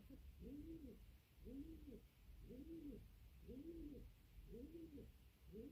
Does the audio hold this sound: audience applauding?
no